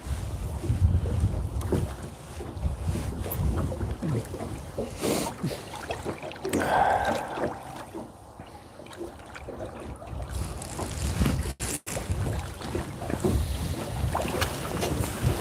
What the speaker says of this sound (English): this wind's starting to fuss with me